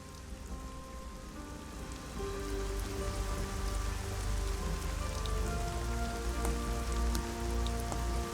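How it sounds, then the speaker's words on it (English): Steady rain in the video game Arcania: Gothic 4 patters densely on a surface, a constant hiss with scattered droplet ticks that swells slightly partway through and keeps going. "Damn rain!"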